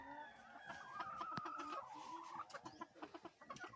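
A Lemon roundhead gamefowl rooster clucks and calls nearby among other fowl, with a short rapid run of clucks toward the end; the sounds are fairly faint over a busy yard background.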